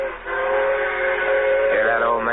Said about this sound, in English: That's a mine train turning into this spur.